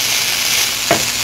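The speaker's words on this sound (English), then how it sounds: "We need to continue frying this rice like this until it looks like it's brown." Rice frying and being stirred in a non-stick pot, a steady close sizzle with a brief scrape of the spoon near the end.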